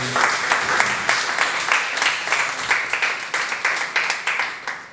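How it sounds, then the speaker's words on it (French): An audience at a professional gospel breakfast in Togo applauds, a lively round of clapping with rhythmic pulses swelling and fading across the room. "Est-ce qu'on peut applaudir le Seigneur pour ça?"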